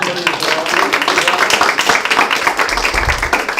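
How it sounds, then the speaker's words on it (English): Steady applause with dense overlapping claps fills the room after a press conference with the US Under Secretary of State for Public Diplomacy, moderately loud and continuous, with voices mixed in. "Round of applause."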